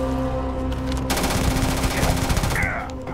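A rapid-firing gun in the video game Starfield lets off a fast, even burst of shots, a loud continuous rattle over a hum of game ambience.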